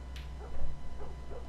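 A dog in The Last of Us Remastered video game barks and whimpers, a few soft yips and whines set against a steady low game-sound hum.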